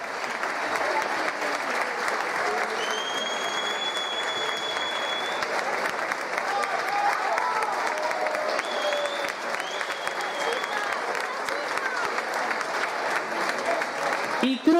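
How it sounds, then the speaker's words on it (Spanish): An audience at a Santa Cecilia awards ceremony for band directors applauds a band representative, a long, even stretch of clapping with a few faint voices and whistles mixed in. "Un fuerte aplauso para ella"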